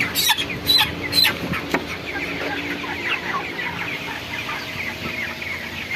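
Chickens cluck and squawk nearby, with a few sharp loud calls at the start followed by a busy chorus of softer clucking from many birds.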